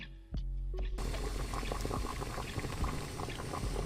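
Beef with bamboo shoots bubbles in a covered pot, a dense, steady simmer that swells in after a short quiet start and keeps churning loudly to the end, with no talking.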